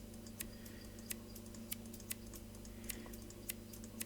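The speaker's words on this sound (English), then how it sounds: "sorry if you can hear my mouse clicking, it's quite a clicky mouse" A clicky computer mouse during a Schedule I gameplay session, sharp dry clicks at a regular pace, roughly two per second, close to the microphone over a quiet steady hum.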